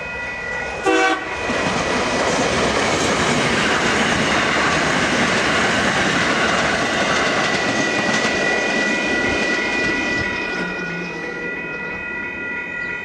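A passenger train horn blasts briefly, then a loud, sustained rumble and clatter of rail cars rolls by for a long stretch, with the horn tones lingering.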